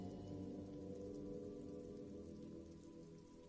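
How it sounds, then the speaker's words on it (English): In the Disco Elysium video game, rain patters steadily onto the roof of a woodshed. It is a soft, even, continuous downpour with no voices. "Rain falls onto the roof of a woodshed."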